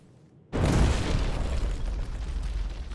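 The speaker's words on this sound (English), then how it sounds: "That was a big explosion for a small wall that we did not need." A sudden loud blast blows up a wall in the Terminator: Resistance video game, a heavy boom followed by a sustained roaring rumble of debris that slowly fades, close and dominant, with no voices.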